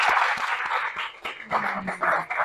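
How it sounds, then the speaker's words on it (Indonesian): Classroom applause from junior high students for a presenting group, a dense, steady patter of many hands clapping across the whole stretch, with a brief dip midway before picking up again. "Tepuk tangan buat kelompok 4"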